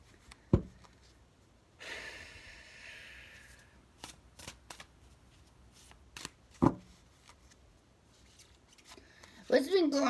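Large tarot cards being handled and shuffled, scattered crisp flicks and short riffles with a longer rustling burst early on, close and fairly quiet, with a person speaking at times.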